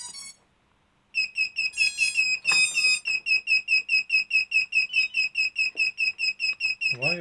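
A drone with new Racerstar BR2306S motors sounds a possible low-voltage alarm: after a short faint tone, a loud, high-pitched electronic beep pulses rapidly and evenly at close range, repeating without pause.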